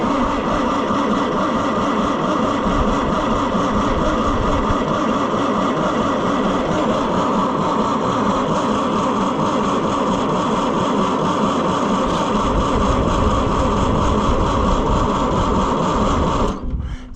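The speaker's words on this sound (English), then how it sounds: "We are going to crank on it and see if anything comes out of the injection lines today." A diesel engine on an Oliver 550 tractor being cranked over at length, giving a loud, steady and continuous mechanical churn close by that cuts off abruptly near the end.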